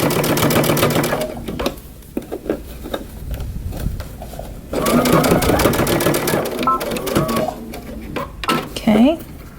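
A sewing machine stitches a seam on a long coat or vest in a steady, close mechanical whir that stops briefly and restarts. A voice talks over much of it.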